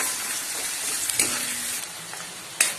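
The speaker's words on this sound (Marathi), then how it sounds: "हळदीमध्ये मी चांगले असे 2 मिनिटं मस्त फ्राय करून घेते तेलामध्ये" Dried bombil fish frying in oil with turmeric, a steady broadband sizzle with a couple of sharp spatters and light stirring clinks, close and moderately loud with no talk.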